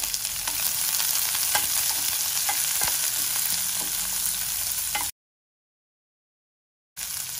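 Chopped onion, crushed garlic and dried red chillies frying in a pan for tomato gojju, a steady loud sizzle with faint clicks of stirring, breaking into silence near the end before the sizzle resumes.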